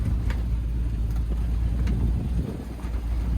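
A 351 Ford Bronco drives with its engine as a steady low rumble under rushing wind and cabin noise, running continuously without any break.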